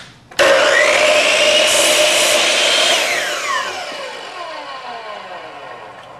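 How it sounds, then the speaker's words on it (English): Hitachi C12FCH miter saw making a quick test cut in wood: a sharp motor start, a loud whining cut lasting a few seconds, then the blade spinning down and fading away. "What we're going to do is slide our piece of wood down just slightly and make a quick"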